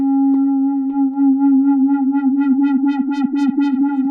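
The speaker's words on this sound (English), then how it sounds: "we're going to modulate this filter with the sine wave of the" Sustained Behringer CAT synth tone whose filter is swept by a sine-wave LFO, producing a steady, cycling wah-like wobble that speeds up and brightens over about four seconds, alone and close.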